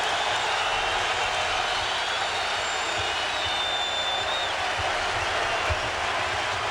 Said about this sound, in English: Listen to this Illini crowd.